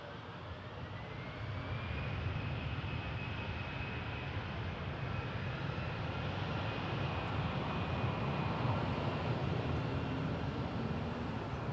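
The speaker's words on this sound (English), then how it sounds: "As a little Challenger takes off." A Bombardier Challenger business jet takes off at Toronto Pearson Airport, its engines a steady, broad roar that builds over the first couple of seconds and then holds loud and even throughout, with no voices.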